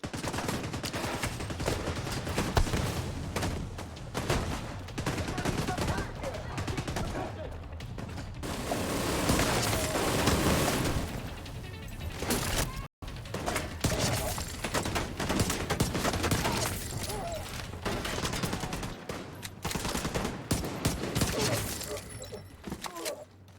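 Dense, sustained gunfire rattles through a shootout in The Division 2, with rapid automatic bursts and overlapping shots running almost continuously, loud and close, broken only by a brief gap, while voices talk over the fighting.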